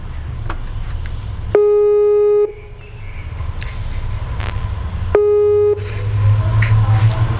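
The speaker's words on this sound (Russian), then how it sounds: "Сейчас я позвоню нашему представителю Махабат." A telephone ringback tone sounds while a call is being placed, two long steady electronic tones about a second each separated by a pause, loud and close over low background noise, with no talk.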